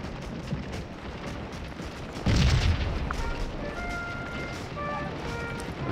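A sudden loud boom of cannon artillery fire in the Civil War battle game Scourge of War: Gettysburg, followed by a lingering rumble and scattered faint musketry-like crackles.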